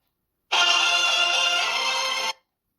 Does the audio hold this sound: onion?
no